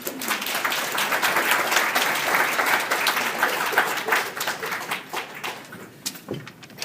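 An audience applauds to welcome a presenter at an evening estate planning talk, a sustained, fairly loud wash of many hands clapping that gradually thins and fades out.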